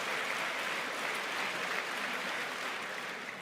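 Sustained applause from a large audience in the chamber during the 2020 State of the Union address, a dense, steady wash of clapping that holds at an even level throughout with no talk over it.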